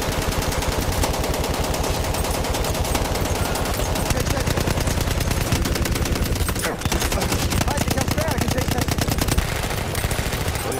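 Sustained rapid automatic gunfire fills a Battlefield 1 match, dense and loud throughout with brief shifts in rhythm, with no pause in the shooting.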